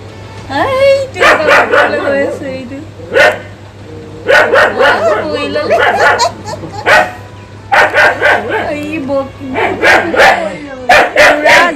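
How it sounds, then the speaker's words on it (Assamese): Jackie, a pet dog, barks loudly and close at monkeys on a tower, in bursts of repeated barks with some whining yips between them. "পুৰা জেকিয়ে মানে বান্দৰকেইটা দেখি পুৰা ভুকিবলৈ ধৰিছে"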